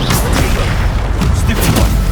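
A Descendo spell blast in Hogwarts Legacy lands as a loud, dense booming rumble that fills the whole short moment with heavy, continuous low impact.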